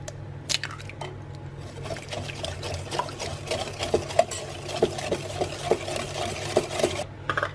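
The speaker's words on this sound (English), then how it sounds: "Whisk in an egg" An egg is whisked into date cookie batter in a bowl, with quick rhythmic clicks and wet taps repeating steadily and close over a low background hum.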